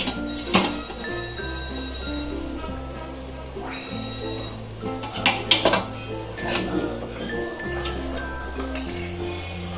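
A knife cutting soft, freshly steamed Gujarati dhokla inside a steel plate: scattered metallic clinks and scrapes against the plate, a few sharper taps, over steady background music and occasional speech.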